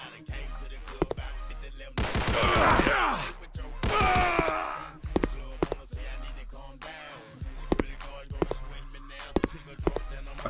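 Gunshots in the action game Miirio's Bizarre Adventure, a string of sharp, punchy shots spaced irregularly over several seconds, mixed with louder bursts of combat effects.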